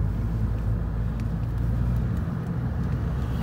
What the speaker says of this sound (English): Right, so I'm out in Lou's ST at the minute now, so we're gonna get some clips of this.